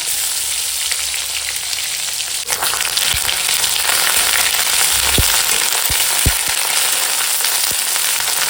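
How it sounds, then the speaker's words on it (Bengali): Potato, panch phoron, green chili and ginger paste fry in hot oil with a steady broadband sizzle, punctuated by a few sharp pops and clicks of stirring toward the end. "ভালো করে একটু আলুটা ভেজে নিচ্ছি"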